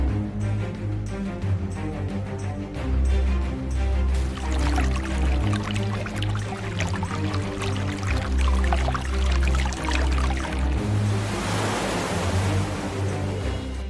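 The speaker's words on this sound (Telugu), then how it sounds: "అయితే వాటర్ పోసేస్తున్నాను." Water poured out in a home kitchen beside a cooking hearth: a continuous rushing splash over a low droning music bed, swelling into a brighter hiss near the end.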